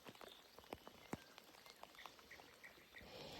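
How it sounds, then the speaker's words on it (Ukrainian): Steady, heavy rain falls beside the Sula river during a feeder fishing trip, drops pattering sharply and unevenly on nearby surfaces, with faint frog croaks in the background and no talking. "Гарний рясний дощик."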